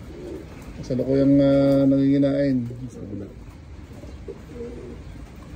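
A pigeon gives a soft, low cooing call for a couple of seconds, close by, in wet, rainy surroundings, while a person talks before and after it.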